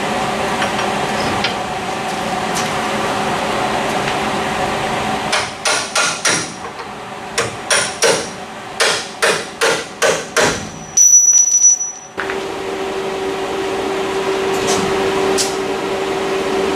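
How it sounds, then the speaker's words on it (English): Loud bursts of an air hammer punching out rivets on a 1974 Ford F100 rattle in a series of short pulses over a steady compressor hum, followed by a brief high whine. "I'm going to use the air hammer to punch the rivets out"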